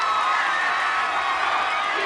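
A live American Ninja Warrior audience roars in a steady, dense wall of cheering and whooping for a competitor's strong obstacle-course run, loud and unbroken throughout.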